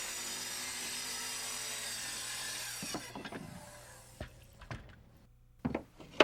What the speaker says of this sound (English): And here's a riser being cut.